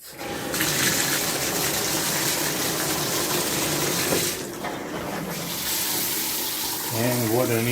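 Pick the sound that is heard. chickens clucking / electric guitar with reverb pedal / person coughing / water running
water running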